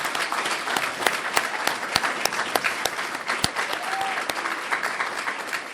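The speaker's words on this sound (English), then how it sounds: "let's bring her up with a great round of applause" Crowd applause at a Hispanic advisory awards evening, a full, sustained round of clapping with sharp individual claps standing out, fairly close and steady.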